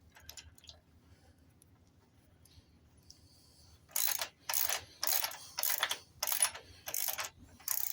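Ratchet snugging up a transfer case bolt on a Roadstar 1600 motorcycle: after a few quiet handling noises, about eight sharp rhythmic clicking strokes come in close succession, up close and without talk.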